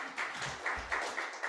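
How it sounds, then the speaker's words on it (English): A brief, soft wash of clapping with a few louder claps poking through, as a group gives itself a round of applause during a meeting. "Give yourselves a round of applause"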